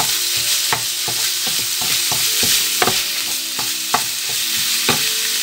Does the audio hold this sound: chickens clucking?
no